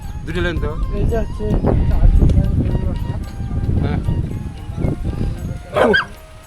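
Several dogs bark in short bursts amid lively overlapping conversation in a flooded village in Rajshahi, the barking partly buried under the voices.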